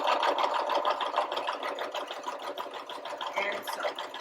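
A home sewing machine runs steadily, stitching fabric for a pocket cloth diaper in a straight seam, with a continuous close whirring motor and needle rhythm that eases slightly near the end; no talking.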